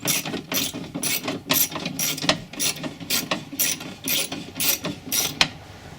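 A hand wrench ratchets on a window bolt inside the door of a 1998 Isuzu Rodeo, giving a steady series of about a dozen close, crisp clicking bursts in regular rhythm.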